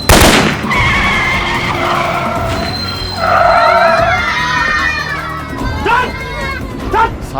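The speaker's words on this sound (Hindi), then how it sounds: "सालों ने गाड़ी के टायर पंचर कर दिए।" A car skids hard after its tyres are shot out, a loud tyre screech that stretches and wavers against a busy background of shouting voices and confusion.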